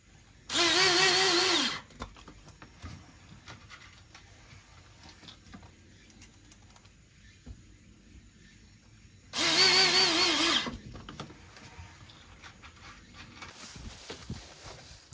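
Power drill driving screws into gypsum board while a DIY soundproof room is built, with two loud sustained whirring bursts a few seconds apart and quiet handling noise between them.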